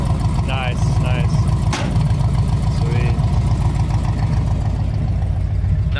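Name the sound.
1972 Chevy C10 truck engine idling, loud exhaust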